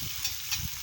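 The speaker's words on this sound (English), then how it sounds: "it's gonna sizzle beautifully" Food sizzles in a hot pan inside a wood-fired oven, a steady close crackling hiss with a couple of brief louder pops, with no talking.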